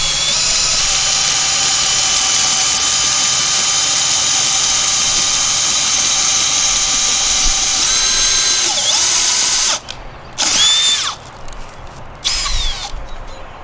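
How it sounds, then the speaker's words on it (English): A power drill whines steadily at high speed while boring into wood, loud and close, then stops and restarts in a few short bursts near the end. "start drilling."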